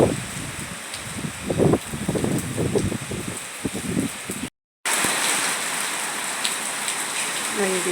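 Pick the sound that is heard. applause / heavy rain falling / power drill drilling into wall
heavy rain falling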